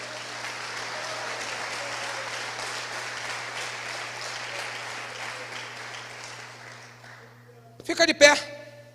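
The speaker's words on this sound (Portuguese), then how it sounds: "Aplauda Jesus, por favor." Congregation applauding at a church sermon, a steady wash of clapping that runs for several seconds, then tapers off before a brief louder burst of sound near the end.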